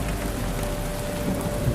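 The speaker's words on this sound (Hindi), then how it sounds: "अचानक आसमान से बिन मौसमी बारिश शुरू हुई" A sudden, unseasonal rain shower pours down as a steady, even hiss of falling drops for nearly two seconds, with a faint low rumble underneath. No voices are heard.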